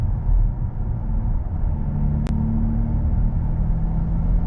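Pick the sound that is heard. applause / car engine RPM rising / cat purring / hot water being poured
car engine RPM rising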